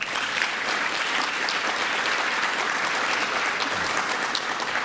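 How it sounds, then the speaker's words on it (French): Audience at a business forum in Africa applauds steadily and densely, a continuous wash of many hands clapping throughout without pause. "Je voudrais vraiment qu'on les applaudisse encore une fois."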